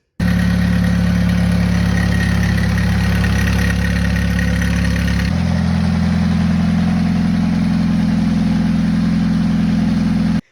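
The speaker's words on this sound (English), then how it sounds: "There's still a little bit of timing chain rattle on this guy" Nissan 240SX KA24DE engine idling loud and close, a steady low drone with a metallic timing chain rattle riding on top, shifting slightly in tone partway through.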